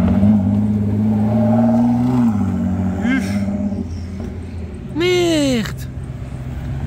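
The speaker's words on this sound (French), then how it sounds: "Regardez ce qui arrive là-haut, la Ford GT blanche." A white Ford GT sports car pulls away with a rising engine rev and a sharp roaring burst near the end, heard under excited speech from a nearby onlooker.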